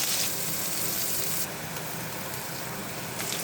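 Diced potatoes tipped into hot oil with cumin seeds, giving a steady, loud broadband sizzle and crackle that continues throughout, with no talking.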